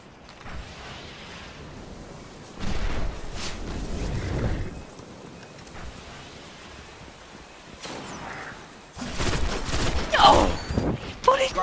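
Hand cannon gunfire in a video game rings out in loud bursts of rapid, overlapping shots, with quieter stretches between volleys and a heavier cluster toward the end.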